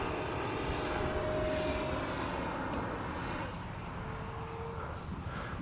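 A high-pitched whining outrunner motor drone from a Freewing 64mm F-22 RC jet, steady and fairly distant, with the pitch sliding down partway through.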